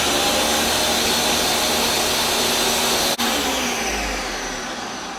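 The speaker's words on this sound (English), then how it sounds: "The soup is cooked, and I'm just going to puree it, and so we're going to make a bit of a noise here." A blender purees cooked lemon lentil soup with a loud, steady whirring roar that runs continuously, briefly cuts out once, then carries on and gradually eases off near the end.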